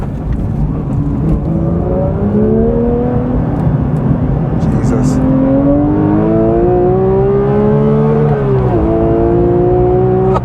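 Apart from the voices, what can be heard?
sports car engine revving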